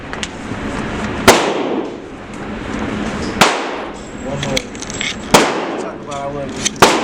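Pistol shots ring out at an outdoor gun range: four sharp, loud reports roughly two seconds apart, with people talking in between.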